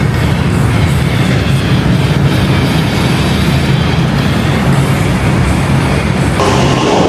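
A train rumbles along loudly and steadily, wheels clattering over the rails in a constant roar from inside the carriage, on the Maeklong railway in Thailand.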